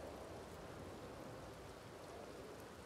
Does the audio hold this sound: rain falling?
yes